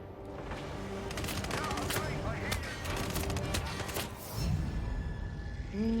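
Shotgun and other gunfire in Hitman 3, a steady run of sharp shots and impacts over busy game ambience at moderate level, with a voice talking faintly underneath.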